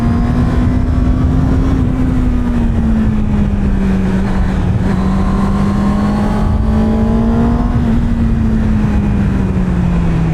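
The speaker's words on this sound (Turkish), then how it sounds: "Şöyle üçüncü viteste giriş yaptım. Tekrar gazımı açtım. Üçüncü vitesteyim." A Honda motorcycle engine holds a loud, steady drone in third gear with slight rising and falling pitch as the throttle opens, heard up close with constant wind rush.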